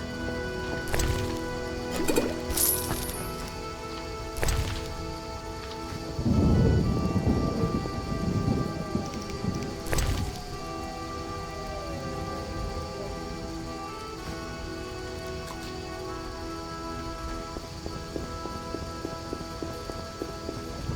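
Steady rain pours across a stormy scene in The Witcher video game, with deep rumbles of thunder rolling in and out over the downpour and a few sharper cracks throughout.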